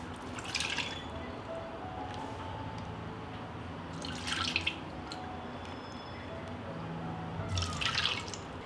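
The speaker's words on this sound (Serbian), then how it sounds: "I ovako ćemo u drugu šerpu kroz sito procediti dodatno" Cherry juice drips and trickles steadily through a sieve into a pot, with a few brief splashier bursts every few seconds, fairly quiet and close, no voices.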